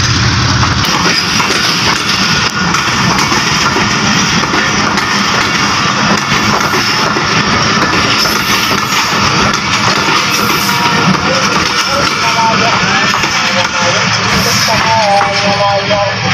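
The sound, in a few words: express passenger train departing station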